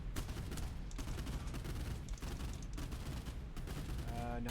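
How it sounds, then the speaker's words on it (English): Mortar fire in the naval video game Boat Crew thuds and rumbles in repeated heavy blasts over a constant loud background roar, with no pause between volleys. "it looks like the mortars are still firing at me"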